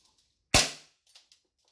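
Umarex HK USP 45 airsoft pistol loaded with 0.2 gram BBs and green gas fires a single sharp, loud crack indoors, followed by a couple of faint clicks and taps.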